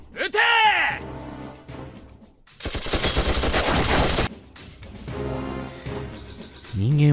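Heavy automatic gunfire rips out in a dense, loud burst in the Muv-Luv game, following a sharp single shot, with spoken voices before and after the volley.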